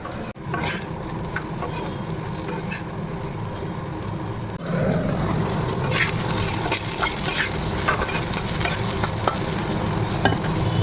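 Bitter gourd pieces fry in a pan while being stirred, producing a close, continuous sizzle with scraping spoon movements. The frying grows louder and busier about halfway through and stays that way.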